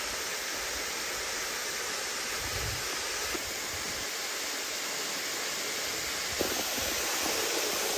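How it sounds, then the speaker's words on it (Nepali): A waterfall on the road to Bhimphedi in Nepal during the rainy season gives off a steady, dense roar of falling water that stays broad and even throughout, with no talking. "हाम्रो चाहिँ यो बाहुबली होइन कि कटप्पा झर्ना हो यो"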